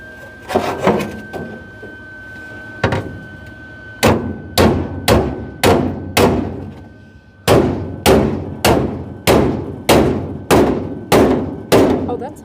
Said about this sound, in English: you can maybe hammer down here a little bit and try to close in the gap